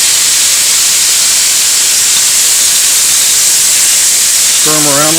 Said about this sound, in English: Let's go ahead and add the shrimp.